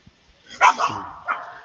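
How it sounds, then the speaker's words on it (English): A dog gives a short burst of barks, two or three close, sharp yips with a brief gap before the last, over an otherwise quiet background. "There's a beautiful dog here."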